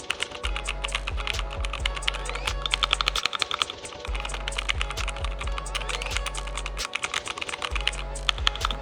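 Rapid typing on a custom-built computer keyboard, its keystrokes clacking in a dense, steady stream close up, with a low hum underneath and no talking.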